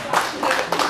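A live comedy show audience claps in short rhythmic bursts, three close, loud waves of hand claps within a second.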